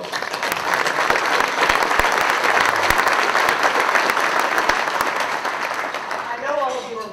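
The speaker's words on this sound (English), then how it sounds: "And a round of applause." A broadcasting conference audience at an NAB 2009 super session claps heartily, with sharp individual claps standing out from a steady roar for several seconds before a voice begins speaking at the end.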